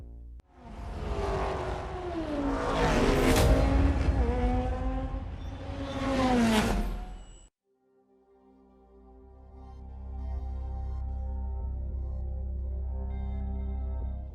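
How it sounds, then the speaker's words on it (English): A race car driven in the video game Forza Motorsport, its engine roaring loudly through rising and falling revs with gear shifts, then cutting to a quieter, steady drone. "How does it feel to drive in the new Forza Motorsport game?"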